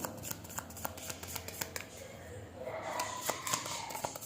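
A deck of oracle cards being shuffled close by in a quiet room, making soft, continuous rustling and flicking with small irregular snaps.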